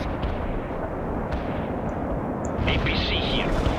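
Mortar fire in the World in Conflict strategy game, a dense continuous rumble of distant blasts under faint radio chatter.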